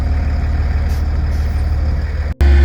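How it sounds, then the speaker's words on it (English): A tow truck idles heavily while lifting and hauling away a Honda Civic, its diesel drone steady and close, broken by a brief hiss and a sudden cut before the engine resumes louder. "She's getting towed away"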